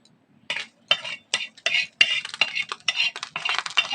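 Metal spatula scraping and clinking on a pan while a fried egg roll is lifted and moved onto a plate, a run of quick, close scrapes with no talk.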